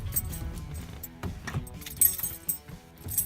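Keys jingle and clink in short bursts as a manual car is switched off, light metallic rattles with soft handling noise, fairly quiet and close.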